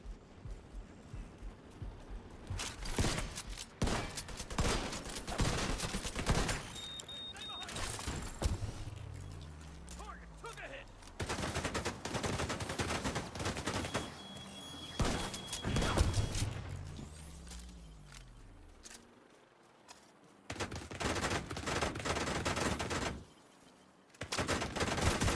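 Gunfire in the shooter game The Division 2, with dense bursts of automatic fire and rapid shots in clusters, broken by brief pauses and a few quieter gaps, loud and close throughout.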